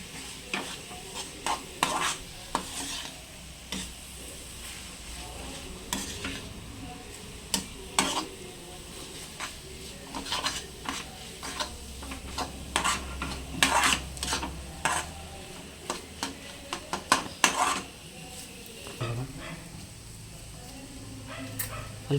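Prawn roast stirred in a pan on the stove, with a low continuous sizzle under frequent scraping and clinking of a spoon against the pan, broken by brief louder knocks near the close.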